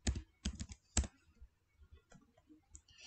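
Typing on a computer keyboard to enter the Kahoot site into a web browser: quick bursts of close, crisp key clicks, a fast cluster near the start followed by lighter scattered taps.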